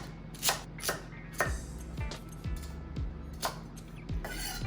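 A knife chops washed vegetable stems into small pieces on a board, with a series of crisp, irregular cuts close by and quiet scraping between strokes.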